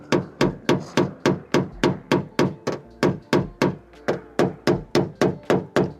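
A highly polished steel tip tapping out a dent in a car's metal panel, rapid regular metallic knocks at about three per second, crisp and close, continuing without pause.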